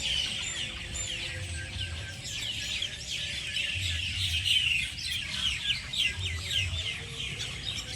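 Birds chirp and twitter continuously across green fields in the countryside, a dense chorus of calls at moderate distance over low outdoor background noise, with occasional clucking that suggests fowl nearby.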